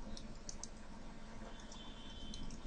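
Light, quick typing on a computer keyboard, soft rapid key clicks at low volume with no voices.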